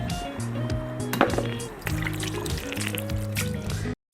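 Water splashes and drips as a face pack is rinsed off, with short wet bursts and a brief silence near the end.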